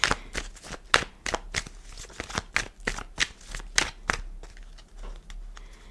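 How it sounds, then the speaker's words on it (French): Tarot cards dropped and handled, a rapid series of close, crisp flicks and slaps in an uneven rhythm that thins out toward the end. "je fais tomber les cartes"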